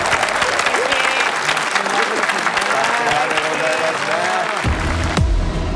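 Sustained applause from a crowd at a Clash of Clans versus event, dense clapping mixed with a few voices, ending abruptly.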